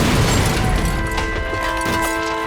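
Explosions in the video game Perfect Dark Zero: a dense, loud wash of booming blasts and crashing debris that fills the whole moment, with no pauses and no voices over it.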